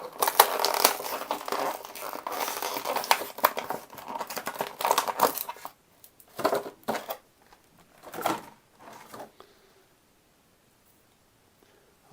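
Plastic packaging crinkles and crackles close up while collectible He-Man action figures are unpacked, busy rustling for several seconds, then a few separate crumples and tears before going quiet.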